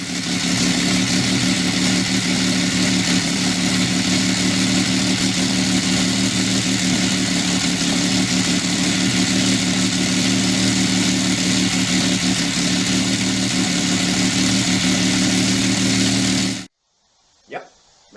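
The engine of the Project Spirit hot rod idles with a loud, even rumble for about sixteen seconds, then cuts off sharply, leaving near silence with one brief faint sound.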